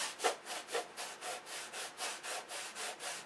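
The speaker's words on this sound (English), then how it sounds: "We're sanding around the beam of the fuselage" Sandpaper rubbed around a wooden model airplane fuselage in quick, even back-and-forth strokes, a soft rhythmic rasping repeated about a dozen times, close and alone.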